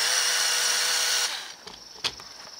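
Two small electric motors whirring steadily in a LEGO Technic all-terrain truck, a high continuous whine that cuts off partway through, followed by a few light clicks and a sharp knock.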